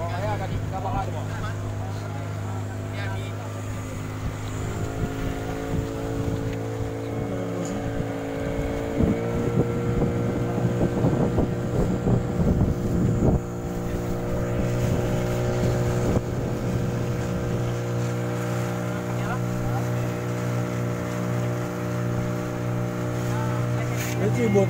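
A motorboat runs from Teupin Layeu toward Pulau Rubiah off Sabang, its steady engine drone and hum carrying over wind and water noise, with people talking over it in places.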